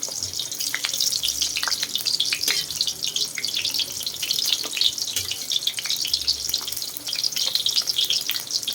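Pork for binagoongan fries in a pan with a bright, continuous sizzle and crackle, loud and close, with occasional soft bumps of stirring and no talk.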